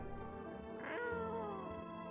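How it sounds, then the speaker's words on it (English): A cat meows in a video game, one clear, drawn-out wailing meow rising and then sliding down over a steady background of game music. "I love the cat."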